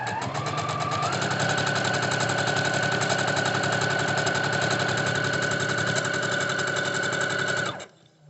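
Sewing machine stitching a seam in fabric for a pencil roll, a loud, steady, rapid mechanical whir that runs for about seven seconds and then stops abruptly, with no talking over it.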